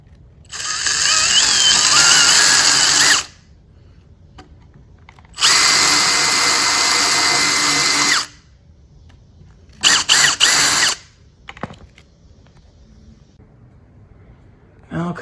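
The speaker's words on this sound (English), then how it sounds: "So you just take a little bit off the edge with the drill" A power drill countersinks pilot holes in wood for a shou sugi ban floating bed frame, three bursts of high whining spin, the first two about three seconds each and close, the last short and choppy, with quiet pauses between.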